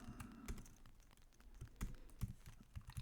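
Someone types code on a computer keyboard. Rapid, uneven key clicks come close to the microphone but quietly, with no talking.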